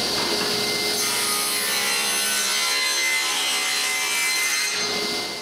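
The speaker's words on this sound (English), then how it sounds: "I begin by cutting the bulk with the table saw." Table saw cutting through a mahogany and maple box lid, a loud, steady, continuous whine of blade on wood that holds for several seconds, alone with no talk.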